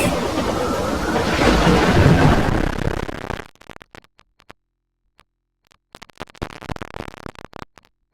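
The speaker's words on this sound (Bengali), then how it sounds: "কালবৈশাখীর ঝড়ের সাথে মুহুর্মুহুর বৃষ্টিতে ভেসে যাচ্ছে চারিদিক" A Kalbaishakhi thunderstorm with heavy rain: a dense, loud roar of downpour and rumbling for about three seconds, then a sudden cut to near silence broken by scattered crackles and bursts of noise.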